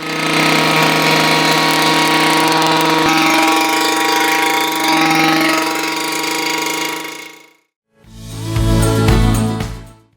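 A chainsaw engine runs loudly before cutting wood, holding a steady buzzing drone for several seconds, then cutting out abruptly and revving back up close by.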